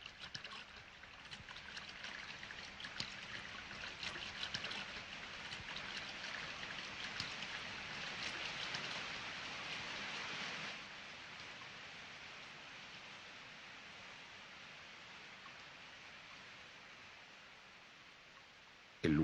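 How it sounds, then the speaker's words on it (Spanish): A horsetail waterfall fed by a nearby perennial spring at Petra gives a steady, broad rush of falling water, louder in the first half then softening to an even, continuous hiss with no voices. "Esta cascada de cola de caballo procede de una fuente próxima"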